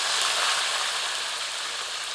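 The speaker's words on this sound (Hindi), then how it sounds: "हमें मांस को सरसों के तेल में 3 से 4 मिनट भूनना है" Goat meat frying in mustard oil for a few minutes, a steady dense sizzle and crackle that holds at an even level throughout with no voices.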